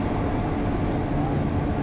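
Sunlander passenger train standing at the Gympie North platform, giving a steady, close, low rumble of idling rail cars and engine with no distinct events across the short stretch.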